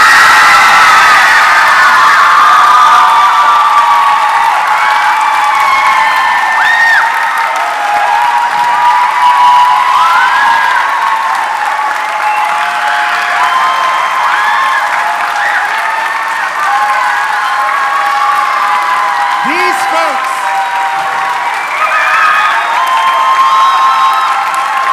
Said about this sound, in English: Please give a strong applause for our director